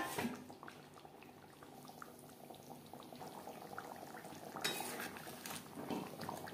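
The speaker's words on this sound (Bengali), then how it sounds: "গ্রেভির সাথে মাছ বেশ ভালো করে মিক্সড করে দেব।" Katla fish simmers in kalia gravy in a pan, a continuous bubbling sizzle with scattered scrapes and clinks of a utensil stirring, close and steady.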